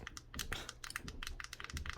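Buttons on a cheap plastic case for a budget sports camera click repeatedly in a quick, close series of sharp, light clicks with no talking.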